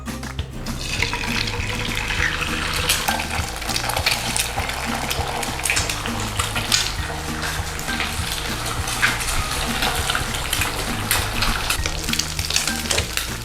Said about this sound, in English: we need to crack a couple of eggs